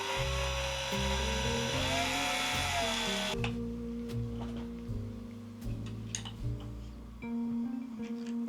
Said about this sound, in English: Now that the loop of paracord is in place, I can just back out that lead screw and allow it to tighten in place.